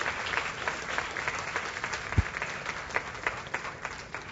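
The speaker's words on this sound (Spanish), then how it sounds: "Dale un aplauso de verdad al Señor" A church congregation gives sustained, steady applause during a sermon, even rhythmic clapping filling the room at moderate distance with a single sharp bump partway through.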